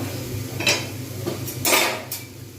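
A metal lid is lifted off a cooking pot of simmering potato and papad curry, giving a few light clinks and clatters of metal on metal, close by and alone with no talk.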